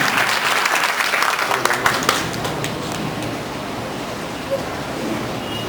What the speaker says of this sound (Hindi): तालियों से उनका खैर करें।